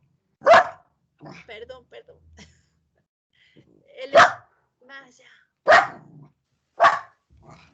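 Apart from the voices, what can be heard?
dog barking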